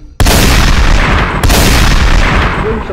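Video game combat erupts in a loud, dense wall of gunfire and explosions, starting with a sharp blast and a second boom partway through, continuous and booming with no talk.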